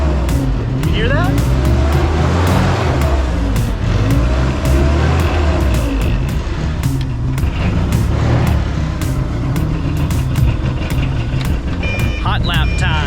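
Segway Ninebot Go Kart Pro 2 on a hot lap in a garage, a loud continuous electric motor whine with tire squeals and scuffs and sharp knocks, a voice talking over it now and then.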